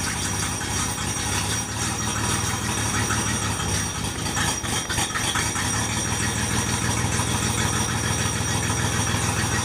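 A third-generation Chevrolet Camaro engine idles steadily and loudly up close, with a constant low rumble and slight rattle and no talking.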